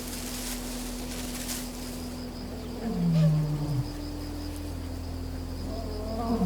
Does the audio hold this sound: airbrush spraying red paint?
no